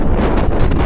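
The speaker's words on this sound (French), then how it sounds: "Le vent s'est levé un petit peu." Strong wind in the open Andes mountains, crossed by bicycle with no trees for shelter, roars steadily and loud against the microphone, with constant gusting rumble and no voices.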